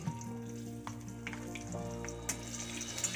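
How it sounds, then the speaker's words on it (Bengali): Bay leaves and dried and green chillies sizzle in hot oil and ghee, a continuous crackling fry with small pops and a low hum underneath, fairly quiet and close. "এবার ফোড়নের জন্য দিয়ে দিচ্ছি দুটো তেজপাতা, দুটো শুকনো লঙ্কা আর 3-4টে চেরা কাঁচা লঙ্কা"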